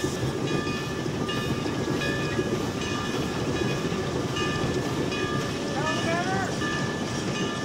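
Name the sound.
Climax steam locomotive running on short line railroad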